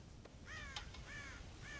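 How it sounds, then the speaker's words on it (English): Crows caw repeatedly in Red Dead Redemption, a few harsh calls in a row at moderate distance over a steady rural background hum. "God damn crows!"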